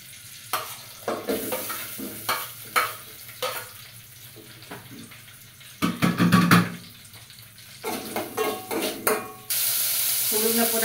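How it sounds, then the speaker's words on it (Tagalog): Sautéing in a pan for ginisang kalabasa, a Filipino squash dish, brings bursts of sizzling and stirring scrapes, close by, ending in a steady hiss as the frying continues. "magigisa na po ako"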